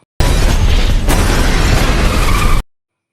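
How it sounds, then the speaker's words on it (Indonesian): A grenade exploding beside a car during a film chase scene: one loud, abrupt boom with a crackling burst that sustains for over two seconds before it cuts off sharply. "lalu meledak"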